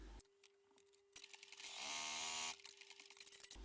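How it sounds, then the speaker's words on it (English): A sewing machine stitching a second line about a centimetre from the folded top edge of a curved zip wallet makes a brief rising whir of about a second, framed by soft handling clicks. "I'll do the second line of stitching 1 centimetre or 3/8 of an inch"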